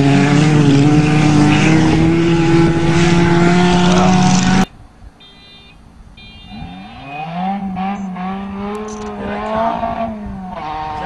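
A Ford Escort, a Nissan Sentra and a GMC Jimmy racing across a field, loud revving engines with wheel spin, then a sudden cut to a more distant engine note rising and falling.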